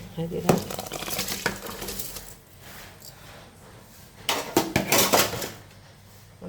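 Pots and utensils clatter in a home kitchen as rice goes into a pressure cooker for tomato rice, with two bursts of clinking metal, one near the start and another louder cluster later.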